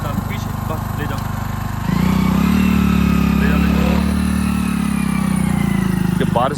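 A motorcycle engine runs steadily on a rain-muddied village road, a loud close drone that steps up in pitch and volume partway through as it pulls away, with voices speaking faintly under the engine.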